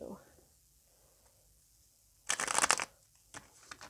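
Tarot cards are shuffled close by in one quick riffling burst after a brief stretch of quiet, followed by a few softer card flicks.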